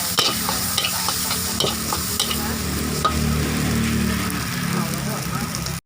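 Tom yum fried rice being stir-fried and tossed in a wok, a steady loud sizzle with scraping spatula strokes running throughout, with a faint low hum underneath.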